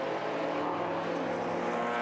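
Several BMW race cars run together in an open-class circuit race at Manfeild, their engines blending into a steady, dense drone with harmonic whine, continuous and fairly loud throughout.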